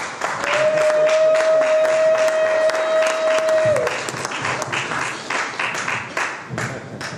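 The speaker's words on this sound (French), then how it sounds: "On peut applaudir," A church congregation applauds steadily and loudly, with a sustained tone ringing beneath the clapping for a few seconds before it fades.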